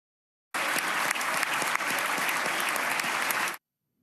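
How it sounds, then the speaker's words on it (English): A Republican-dominated Florida state legislature gives Governor DeSantis a standing ovation: roughly three seconds of loud, dense, steady applause that starts abruptly and cuts off just as sharply, with no voices above it. "That is the big round of applause, the standing O that the governor got from his state's Republican-dominated legislature"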